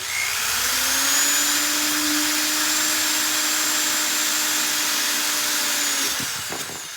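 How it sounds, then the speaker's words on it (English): A handheld power drill runs steadily at close range while boring into a drawer during drawer pull installation, a continuous whining motor tone that holds for about six seconds and then winds down. "So I'm gonna take my drill."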